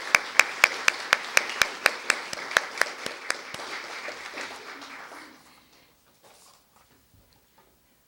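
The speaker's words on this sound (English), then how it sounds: "Let's have a nice round of applause for Annabelle." A small audience at a welcome introduction claps in a crisp, evenly spaced rhythm for about five seconds, the claps fading out into near silence.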